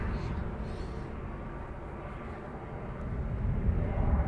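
A Ryanair airliner taxiing at Dublin Airport, its engines giving a steady low rumble and broad roar that swells slightly toward the end, heard at a moderate distance with no voices.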